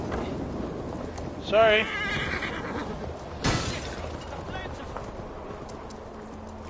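A horse in Assassin's Creed Valhalla gives a brief whinny and clip-clopping hooves amid game ambience, with someone talking over it.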